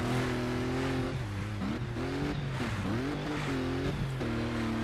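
A Mitsubishi rally car revving hard on a Malaysian track in the racing game Colin McRae Dirt 2. The engine note climbs and drops steadily through gear changes, loud and continuous with no talk.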